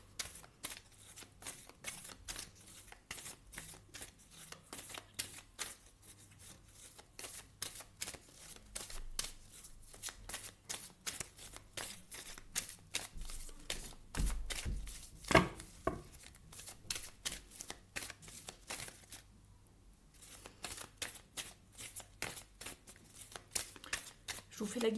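A deck of oracle cards is shuffled for a reading, a steady run of soft, close riffling and tapping slaps that goes on for the whole stretch while someone talks over it.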